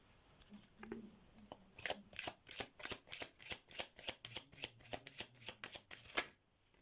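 Oracle cards being shuffled by hand in a quiet room, a close, crisp run of about fifteen rhythmic riffling bursts, each a soft papery flutter, heard alone without talk.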